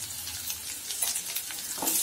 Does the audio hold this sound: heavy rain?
no